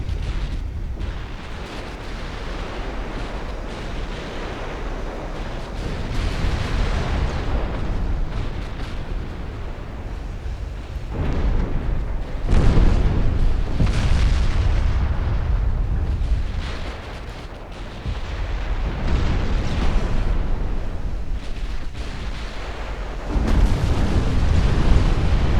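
A warship flash fire in Ultimate Admiral Dreadnoughts, with heavy naval explosions and booming gunfire rolling continuously in loud, deep waves and several sharp bursts standing out.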